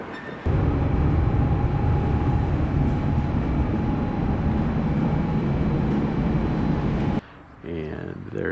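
A train rolls into a station platform on the line to Freilassing with a steady loud low rumble that holds for about seven seconds and then breaks off sharply, leaving quieter platform sounds.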